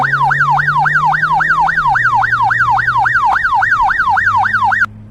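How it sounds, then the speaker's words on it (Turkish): A loud electronic police siren from a children's car video game wails in a fast, regular up-and-down cycle over a low engine drone, then cuts off abruptly. "Polis arabası"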